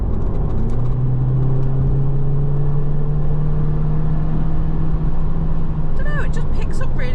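A MK2 Audi TT with DSG gearbox accelerates in sport mode, its engine a steady low drone from inside the cabin as the car picks up, with some faint clicks near the end.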